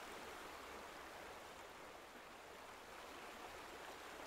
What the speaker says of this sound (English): It's so loud, the water.